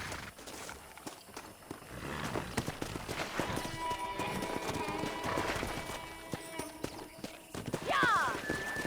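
Horses galloping in Red Dead Redemption, with a rapid clatter of hooves and busy rustling and a sharp neigh near the end, under steady talking.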